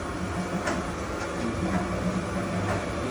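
A 2004 Okamoto ACC1224DXNC surface grinder runs with its spindle at higher speed, giving a steady, loud mechanical hum with a faint rhythmic whir throughout.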